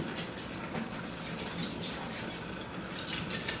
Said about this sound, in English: we'll put some water in.